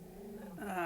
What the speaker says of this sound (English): Apologies if you can hear my dog in the background.